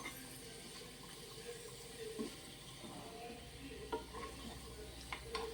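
Ingredients for laddu roast in a pan, giving a soft continuous sizzle with occasional stirring scrapes. It is close and fairly quiet, with no talking.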